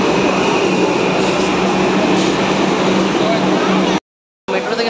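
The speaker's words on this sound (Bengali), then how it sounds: "ট্রেন চলে আসছে, এখন আমরা ট্রেনে উঠবো" A Kolkata metro train arrives at full speed with a loud, continuous rumbling roar that fills the platform, cut by a brief dropout near the end, with voices mixed into the din.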